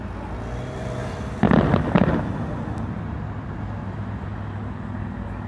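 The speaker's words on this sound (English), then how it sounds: "14 minutes. Pathetic fireworks." Two fireworks bursts go off about half a second apart, a sharp crackling pop followed by a second blast, each fading into a steady low background rumble.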